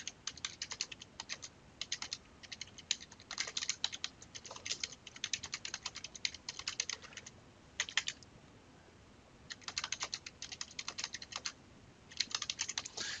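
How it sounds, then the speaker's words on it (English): Steady, rapid typing on a computer keyboard while entering text, dense bursts of key clicks with short pauses between phrases, close and clear with no talking. "So let's just type some text in here."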